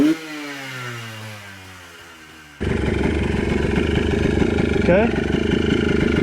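A 2004 Yamaha Blaster ATV engine with the airbox modified starts with falling revs, then jumps to a loud, sustained high-revving drone with a brief rising shift near the end; a short spoken word comes early.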